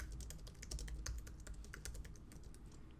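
Steady, rapid typing on a computer keyboard, close and clear, with dense clicking keystrokes continuing throughout and no voices.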